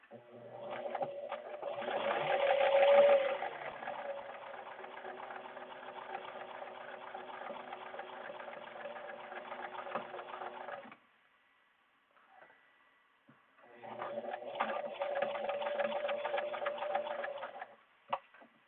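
A sewing machine stitches a reusable mask with a HEPA filter insert in two long runs, steady and close, with a short pause between them.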